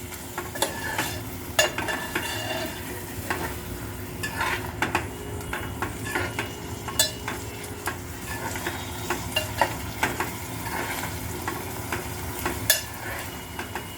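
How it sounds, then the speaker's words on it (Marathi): Matki sprouts stirred and fried in an onion-and-oil tadka over a medium flame for smoke tadka misal: a steady, close sizzle broken by repeated spoon scrapes and clinks against the pan, with no talking. "ही मटकी अशी छान आपण आता व्यवस्थित फोडणीमध्ये परतवून घेतलेली आहे."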